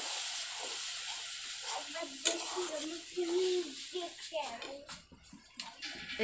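Bengali chicken kasha masala sizzling and bubbling in a pan just after a little water is added, with a steady frying hiss, stirring scrapes and a faint voice talking over it.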